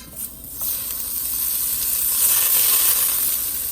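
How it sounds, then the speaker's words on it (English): A tablespoon of butter hits a hot soup pot where hamburger is browning, starting with a soft knock and then rising into a loud, continuous close sizzle that holds steady to the end, with no voices. "we're gonna put a tablespoon of butter in. So have your pot hot"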